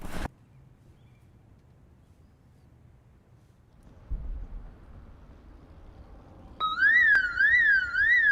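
A car alarm in the zombie-survival game Project Zomboid starts up suddenly and loudly after a quiet stretch, looping a rising and falling electronic wail over low background rumble.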